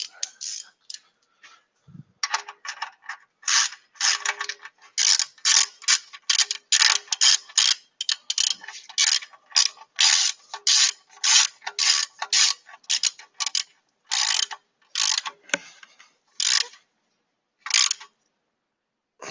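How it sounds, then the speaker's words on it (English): A wrench ratchets an oil drain plug tight on a car during an oil change, giving a fast, even run of sharp clicks in bursts with short pauses, close and fairly loud. "This drain plug has to be tightened to 30 foot-pounds."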